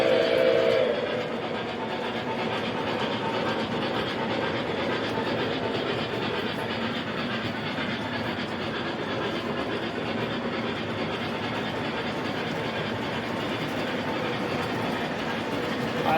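A model train engine runs steadily around a home layout, set to a capped top speed, giving a continuous close rumble and faint rhythmic clatter throughout with no voices.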